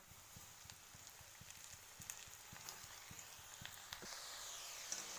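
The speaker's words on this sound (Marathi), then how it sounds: "तेल गरम झालेले, आपण त्याच्यात फ्रेंच फ्राईज सोडून घेऊया।" French fries sizzle steadily in hot oil, a dense even crackle with scattered pops, close by and uninterrupted, with no voices.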